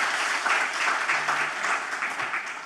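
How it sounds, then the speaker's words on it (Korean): An audience at a peace symposium on the Korean DMZ claps for the panelists, a steady medium-level patter of many hands at a fair distance, running evenly through the clip. "우리 기현 의견 전해주신 패널분들께 우리 여러분들의 큰 박수 다시 한번 부탁드리도록 하겠습니다"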